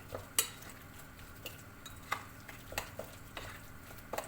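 Oil and tomato paste stirred together in a pan for homemade chicken döner, a series of quiet scraping strokes and light utensil taps against the pan over a faint sizzle.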